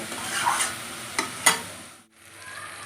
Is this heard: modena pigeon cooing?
no